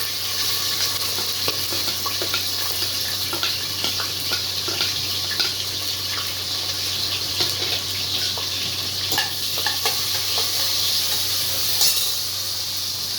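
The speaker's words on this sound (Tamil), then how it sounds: "இப்போ பாருங்கள் எண்ணெய் காஞ்சிருச்சு. பெரிய வெங்காயம் ஒரு 4 வெங்காயம் போட்டுக்கலாம்." Onions sizzling in hot oil inside a pressure cooker, a steady close hiss with scattered crackles and pops running unbroken throughout, no voices.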